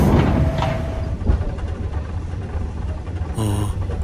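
An animated ghost train rumbles past with a continuous, loud, rolling clatter and rushing noise, and a brief higher rattling swell near the end.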